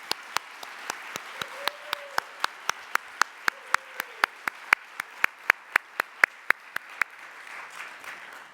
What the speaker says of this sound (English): Please join me in another round of applause for all of today's well-deserving award recipients.